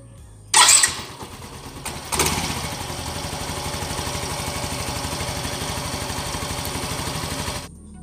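Yamaha Mio i 125 scooter engine cranked by a new starter motor: a brief whir and catch, then the motor fires and settles into a steady close idle that runs evenly before cutting off.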